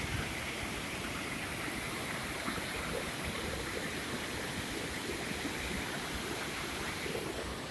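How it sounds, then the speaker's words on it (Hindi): A rushing mountain river on the route to Hemkund Sahib, Uttarakhand, roars continuously and loudly, a steady dense wash of water noise with no voices. "ये देखिए, नदी जा रही है, बेहद ज़्यादा आवाज़ कर रही है।"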